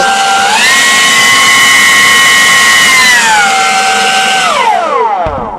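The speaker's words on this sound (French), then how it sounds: "Donc je vais activer le souffleur. Et je vais activer le mode turbo." A loud, high-pitched motorized whine spins up, holds a steady tone for several seconds, then winds down: a LawnMaster MX 24 V cordless axial leaf blower running in turbo mode.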